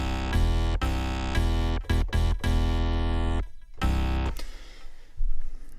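Low, mid and high synth layers stack into one thick patch, playing bright sustained chords with sharp stops and a few quick stabs, ending in a noisier, hissing tail.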